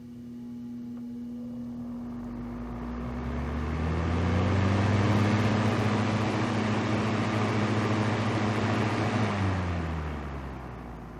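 A vintage Westinghouse AF05 electric fan with a cleaned, oiled motor runs on high, heard from behind, a steady motor hum with rushing air that swells and holds, close and alone.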